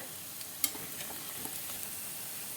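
Lentil balls (urundai) deep-fry in oil over a medium flame, giving a quiet, steady sizzle with a brief sharp clink of stirring near the start.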